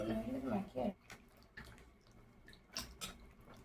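Tap water running while peeled pointed gourd (potol) is rinsed for a vegetarian recipe: a soft, steady splash and trickle with a few brief clatters, under a voice speaking at the start.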